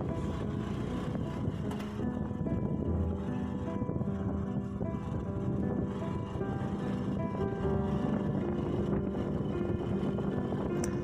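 A scooter rides off-road on a rough dirt desert track near Bikaner, rutted with small potholes from cattle, its engine drone steady under heavy wind buffeting the microphone throughout.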